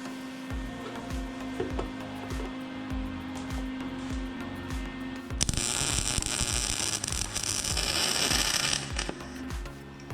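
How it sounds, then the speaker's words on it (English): Welding a bracket onto a Mega Moto 80 minibike swing arm frame, a low humming with rhythmic thuds giving way to a loud crackling, buzzing arc for several seconds, close with no talk. "Weld this bracket up here."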